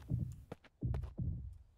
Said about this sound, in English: Oh, it's a heartbeat.